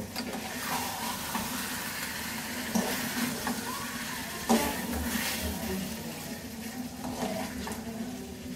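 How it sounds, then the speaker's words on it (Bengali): Goat meat for Bengali boti kebab frying in a pan while being turned over, a steady close sizzle with faint stirring and scraping knocks on top. "তো মাংসটা আমি একটু উল্টিয়ে দিব"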